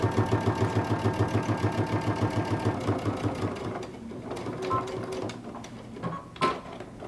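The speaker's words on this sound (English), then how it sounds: "we're going to sew along this bottom edge, catching our neckband on the inside." A sewing machine stitches along the bottom edge of a jumpsuit neckband, a fast rhythmic whir for a few seconds that slows and stops, followed by a few small handling clicks.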